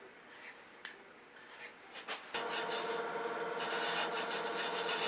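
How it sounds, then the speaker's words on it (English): Beading tool stroked against boxwood spinning on a lathe: a few brief scraping touches, then a sustained close, bright rasping cut that holds steady to the end. "I'm going to stroke the top of this beading tool just a couple of times"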